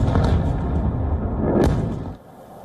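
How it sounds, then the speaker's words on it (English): Missile strikes hitting a city at night, with heavy booming thuds near the start and again around the middle, then a sudden drop to quieter rumble. No voices are heard. "The explosions are heard from miles away."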